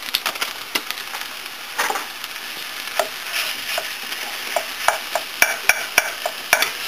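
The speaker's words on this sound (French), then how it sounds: "Quand l'oignon et carotte est assez cuit, donc j'ajoute le viande hachée ou" Ground meat cooking in a pan with onion and carrot for piroshki filling, a steady sizzle with repeated scraping and stirring clicks. No voices.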